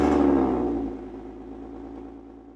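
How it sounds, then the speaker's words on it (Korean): A supercharged Lotus Emira V6 First Edition with a Toyota-based engine fires up with a loud, booming exhaust roar that quickly settles into a steady, lower idle rumble close by. "시동을 걸면 특별한 진동 없이 배기음만 우렁차게 들립니다"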